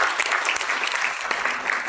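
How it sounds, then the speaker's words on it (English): A brief burst of audience applause at a tourism forum event in Cebu, many hands clapping together in a dense, steady patter at close range. "Please, let's give the officers a big round of applause."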